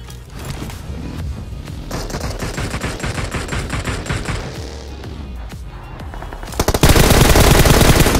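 Sustained automatic gunfire from a battle royale shooter, dense rapid bursts running throughout at a loud level, ending in an even louder, continuous volley of shots near the close.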